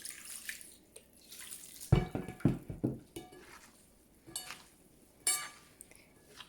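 Water poured and splashed over couscous in a bowl while preparing couscous tfaya, heard as close, intermittent trickling and splashing bursts with small clinks between quieter pauses.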